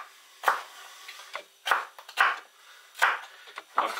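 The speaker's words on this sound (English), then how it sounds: "because I'm cutting into strips" A knife cuts a vegetable into strips on a board for a pork and vegetable stir fry, with sharp crisp chops coming in an uneven rhythm, close and fairly quiet, and no talk.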